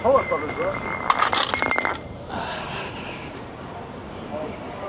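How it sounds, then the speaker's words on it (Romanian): A glass whisky bottle clinks and shatters in a bright burst of jangling glass lasting about a second, close and loud, followed by quieter street ambience and faint voices. "I s-a spart și sticla, am mai rămas câteva. Whisky."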